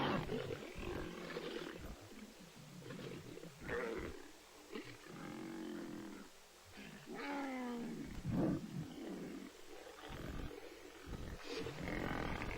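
Wild lions growling and roaring while fighting, deep rumbling snarls and harsh roars rising and falling in overlapping bursts, close and loud throughout.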